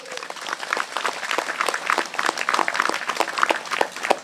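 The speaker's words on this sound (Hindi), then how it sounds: "तालियां बजाइए।" Audience applause at a Bible convention, a dense steady burst of many hands clapping together that carries on at an even level for several seconds.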